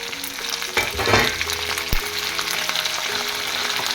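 Vegetables for sambhar sizzle in a pan with steady frying hiss, a burst of stirring around the first second and a sharp clink shortly after, then continuous crackle.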